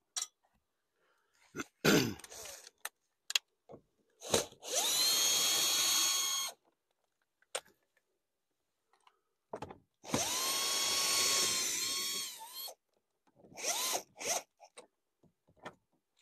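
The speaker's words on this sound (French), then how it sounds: "Ensuite, la visseuse." A cordless power screwdriver works on the screws of a Peugeot 208 HDi door mirror, with two sustained whirring runs of a few seconds each amid sharp clicks and tool handling knocks in a quiet space.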